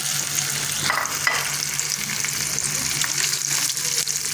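Okra frying in hot oil over a medium flame makes a continuous, fairly loud sizzle that stays even throughout, with faint crackles and no talking.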